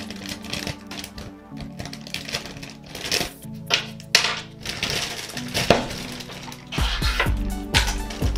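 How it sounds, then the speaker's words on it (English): Sealed plastic packaging around a Shimano Antares fishing reel is cut and torn open up close, with loud irregular crinkles, snips, rustles and knocks of plastic and the reel case handled throughout, a brief voice near the end. "this plastic is sealed, so I gotta cut this"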